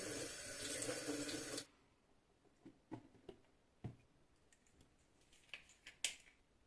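A household tap runs water into a sink for contact lens washing, a steady rushing stream for about a second and a half, then stops, followed by faint scattered clicks and small handling taps nearby.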